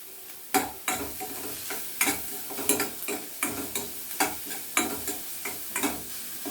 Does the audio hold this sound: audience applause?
no